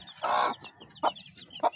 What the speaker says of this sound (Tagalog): Ang inahin na yan.